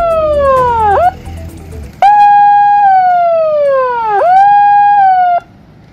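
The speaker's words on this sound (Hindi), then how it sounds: "सायरन बज रहा है, आप सभी को अलर्ट किया जा रहा है।" A flood warning siren near a river wails loudly and close, rising and falling in long sweeping cycles with a short gap between blasts, alone without talk.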